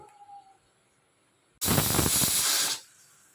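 A pressure cooker of boiling vegetables on a gas stove lets off a sudden loud burst of steam hiss lasting about a second, after near silence, then cuts off sharply.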